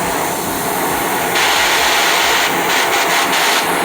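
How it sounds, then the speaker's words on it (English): An oxy-fuel cutting torch burning with a neutral flame while cutting steel plate, a loud, steady roaring hiss that grows slightly stronger partway through and carries faint fluttering crackles. "Okay, so I've got a nice neutral flame."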